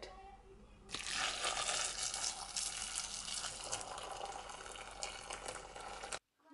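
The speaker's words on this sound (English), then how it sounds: "I'm just gonna pour the boiling water over it" A steady, broad rush of boiling water pouring for about five seconds, close and loud, then stopping abruptly.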